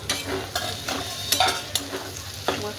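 Green hyacinth beans stir-fried in a pan, loud close sizzling with several distinct scraping strokes of a spatula across the pan, no voices.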